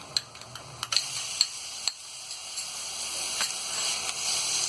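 Ginger-garlic paste sizzles in a pan with golden-brown fried onions for Hyderabadi mutton keema, a steady close hiss broken by several sharp ticks and clicks from stirring.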